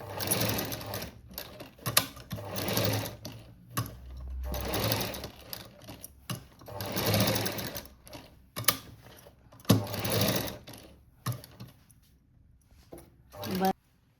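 Several bursts of a sewing machine stitching a cut-work blouse run up close, its rapid rhythmic clatter starting and stopping repeatedly, with a voice speaking between runs.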